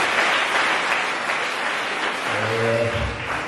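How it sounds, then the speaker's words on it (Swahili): Applause for a school principal at an interschool empowerment event, a steady wash of clapping from a crowd lasting several seconds, with a low voice or hum rising near the end. "Tafadhali mikono itoshi tupigie principal makofi mazuri."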